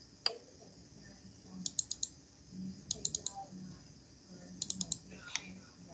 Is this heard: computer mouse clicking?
yes